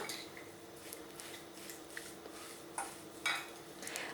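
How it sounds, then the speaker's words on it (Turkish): A cheese, potato and strained yogurt börek filling being mixed in a bowl, with soft, steady scraping and clinking of a spoon, close and quiet, with a few sharper taps near the end. "Şöyle peynir, patates ve yoğurdumu karıştırıyorum."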